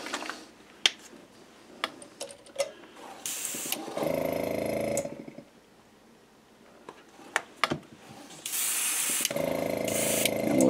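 An airbrush sprays pearlized copper paint onto a lipless fishing lure in two hissing bursts, with faint clicks and handling noises between them and no talk.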